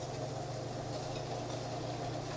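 Food added to a hot frying pan for seafood mac and cheese sizzles with a steady, even hiss under a constant fan hum, close and quiet.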